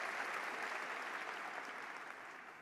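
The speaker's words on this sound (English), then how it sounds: "Let's give him a round of applause for being here." A room audience at the 43North finals gives a round of applause, a dense, steady wash of clapping at moderate distance that fades slightly toward the end.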